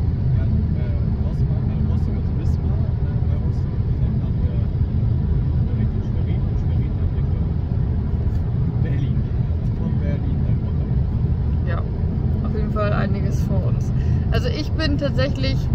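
Steady low road rumble from inside a car driving on the highway toward Rostock, engine and tyre drone constant throughout, with people talking over it toward the end.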